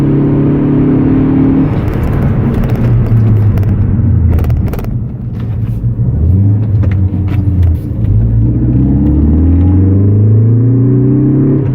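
A car bedding in new EBC Yellow Stuff brake pads runs through repeated hard acceleration and deceleration, engine tone rising, falling and rising again under steady loud road and wind rumble from inside the cabin.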